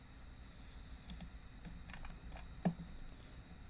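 Faint computer mouse clicks tick sparsely over a quiet room hum, a handful of soft separate clicks with one slightly sharper tap.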